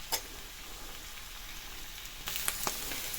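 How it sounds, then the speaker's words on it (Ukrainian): Mushrooms frying in a pan, a soft continuous sizzle that swells and grows brighter partway through, with a few light clicks and taps of utensils, no talking. "обсмажуємо так, щоб грибочки почали золотитися, підсмажуватися"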